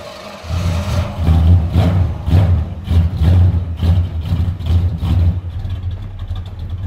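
A Pontiac Firebird engine cranks over and catches after several tries, a loud close rhythmic churn of repeated starter pulses settling into a rough idle.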